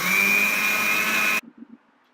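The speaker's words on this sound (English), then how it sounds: "Grind it till it becomes a powder." An electric grinder whirs loudly and steadily, grinding oats into powder, then cuts off abruptly, leaving a few soft knocks and near silence.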